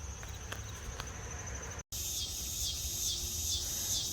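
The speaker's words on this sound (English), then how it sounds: "You hear the cicada in the background." A cicada drones steadily in the background, its high buzz swelling into a louder pulsing shrill after a brief cut, with no talking.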